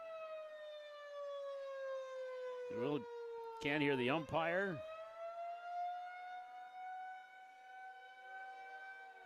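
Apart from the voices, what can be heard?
civil defense siren sounding at a baseball game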